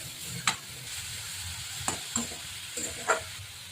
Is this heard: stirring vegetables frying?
yes